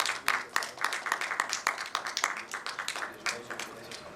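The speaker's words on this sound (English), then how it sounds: "Guys, huge round of applause." Applause at a retail industry conference: scattered, uneven clapping from a modest crowd, with individual sharp claps standing out, while voices murmur underneath.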